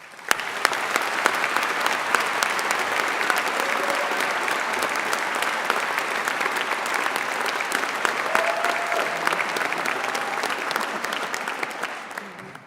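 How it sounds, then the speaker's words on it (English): A large audience claps warmly at a Birmingham City University graduation ceremony, a dense, sustained roar of applause lasting over twelve seconds at close, even loudness before fading briefly at the end. "Please join me in giving them a warm round of applause."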